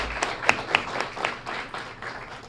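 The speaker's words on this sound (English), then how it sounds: "let's give all of our gift sponsors a great round of applause" Audience at a Student of the Month event applauds the gift sponsors: a brief, sparse patter of claps from a small group, with a few louder individual claps near the start, fading off quickly.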